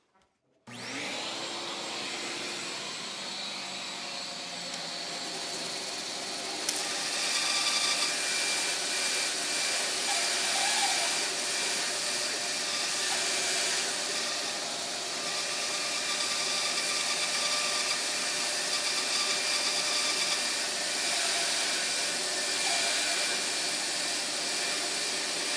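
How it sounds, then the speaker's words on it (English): A shop vacuum hooked up while resin is turned on a lathe roars to life and holds a loud, steady drone, its pitch stepping up slightly partway through and then running on unbroken. "Okay, so I got to hook up the vacuum, or I will have little bits of resin everywhere."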